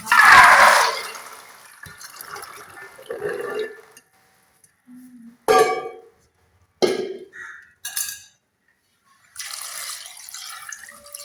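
Soaked chickpeas are washed in water: splashing and pouring bursts come in irregular spurts, separated by quiet gaps, with close dripping and sloshing.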